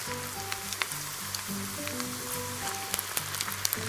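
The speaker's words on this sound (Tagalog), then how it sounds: "So, iprito na natin. Medium oil. I mean medium heat." Lumpia deep frying in oil over medium heat, a continuous crackling sizzle with sharp pops scattered throughout, close and clear, with no talk over it.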